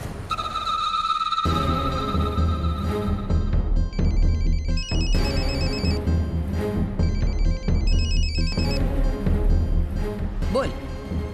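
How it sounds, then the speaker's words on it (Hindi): A telephone rings on the line after a call is placed, a repeated ringing tone in regular bursts that sits under a dramatic background music score, loud and steady throughout. "आई, जरा अर्चना को फोन तो लगाना।"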